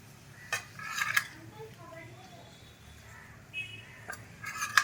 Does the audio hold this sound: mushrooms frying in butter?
yes